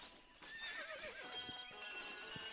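A horse in the Western video game Red Dead Redemption gives a shrill, wavering whinny, quiet and somewhat distant, with faint hoof clops and background ambience and no talk.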